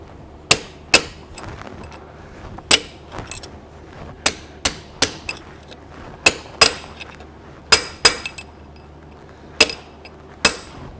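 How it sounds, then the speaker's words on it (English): Sharp metallic strikes ring out irregularly, a dozen or so hammer blows on a punch folding back a metal tab on a truck axle wheel end, each a crisp clink with brief gaps between. "just take a hammer and a punch and fold that tab back over."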